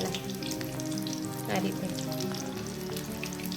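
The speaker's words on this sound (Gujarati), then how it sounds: "આપણે તેલ મૂકીને આપણે જે ગોળી વાળી છે ને એને તળવાની છે" Chickpea flour balls for undhiyu deep-frying in hot oil, a steady dense sizzle and bubbling throughout with a brief surge of louder crackle midway, close and continuous, with a few quiet spoken words over it.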